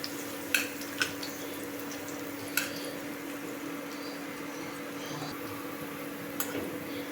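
Minced garlic sizzles steadily in a hot pan for dal tadka, a soft continuous fry with a few sharp clinks of a spoon against the pan.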